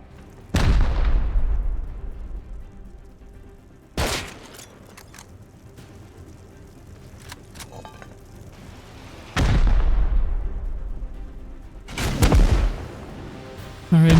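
Rocket explosions in the video game Rust, from a solo defense of an iceberg fortress against a raid, land as four heavy, deep booms spread across the stretch, each with a rumbling tail, amid quieter game noise.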